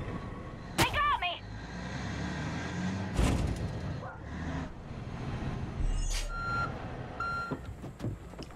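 A truck rumbles nearby in the video game Far Cry 5, with a steady engine drone, hissing air brakes and a few sharp beeps and clanks, mixed with game sound effects.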